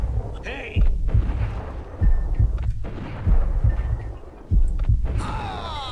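Gunfire in the Max Payne game at Roscoe Street Station: four heavy, booming shots spaced about a second apart, each followed by a low rumbling tail, with faint background sounds between them.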